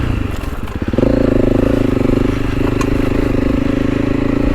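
A Honda CRF300L Rally motorcycle rides over rough terrain, its single-cylinder engine a loud, close, steady droning thrum that firms up after a second and holds, with bumps and rattles from the ride.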